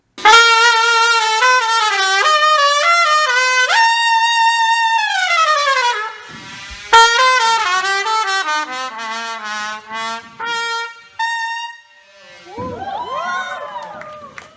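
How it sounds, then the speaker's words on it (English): A trumpet played by a skilled brass player with a warm, clean tone: sustained held notes and stepped melodic phrases, clear and close, with short gaps between phrases and a brief flurry of bright upward-bending notes near the end. "it sounds like you would expect a trumpet to sound"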